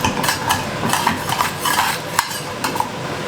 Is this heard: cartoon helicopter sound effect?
no